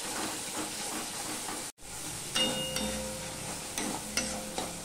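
Vegetables with tomato, turmeric and ginger stir-fried in a pan for a chickpea dish, giving a steady close sizzle with scraping stirs and a few sharper clinks. There is one brief dropout partway through.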